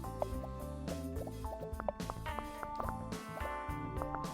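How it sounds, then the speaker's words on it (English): Game Dev Tycoon on Nintendo Switch, where bubbles pop in with bright plinking tones layered over a busy, tuneful game music track, many quick pops in irregular succession, moderately quiet. "when you hear those bubbles pop in, that just sounds good"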